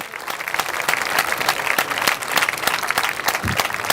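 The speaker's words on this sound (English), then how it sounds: "So I want to thank a big round of applause for all of our electeds who are here with us today" Steady applause from an audience at a keynote speech, many hands clapping in a dense, even wash that holds for the whole stretch with no talk over it.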